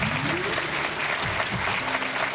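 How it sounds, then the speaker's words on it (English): Studio audience on a quiz show breaks into steady, continuous applause, dense clapping that holds at an even level for the whole stretch with no talking over it. "Round of applause there, buddy."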